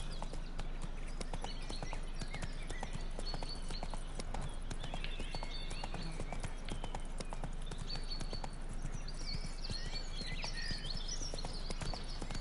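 Clip-clop of the horse Roach galloping in The Witcher 3, a steady rapid rhythm of hoofbeats over an outdoor ambient bed, close and continuous throughout.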